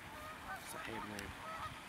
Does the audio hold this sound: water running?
no